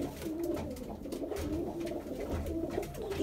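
Mardin pigeons coo in a low, steady series of soft throaty calls, close by and continuous with no talking.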